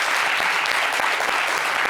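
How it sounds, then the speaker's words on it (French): A studio audience on a talk show breaks into loud, continuous applause, a dense close crowd of clapping hands with no voices over it. "Applaudissez pour Elon."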